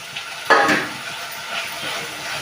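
Tomatoes sautéing with onion, ginger and garlic in a pan: a steady, close sizzle with a short scrape of stirring that briefly swells the frying hiss, and no voices.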